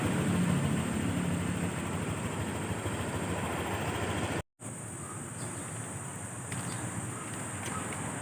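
A 2024 Honda Click 125 V3 scooter engine idles steadily at close range, a continuous broadband hum with wind-like hiss, briefly cut out midway before resuming a little quieter.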